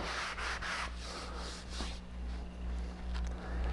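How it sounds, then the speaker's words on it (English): Light hand sanding of a small damaged void in wooden furniture during a burn-in repair, a soft, close rubbing scratch in short strokes over a steady low background hum. "Again, clean the void. Sand just a little bit."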